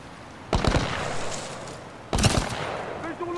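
Soldiers open fire in Titanfall 2: two sharp, loud bursts of gunfire ring out about a second and a half apart, each trailing off into a rattling tail over a low background hum.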